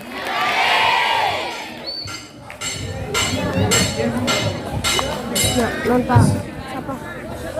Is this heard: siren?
no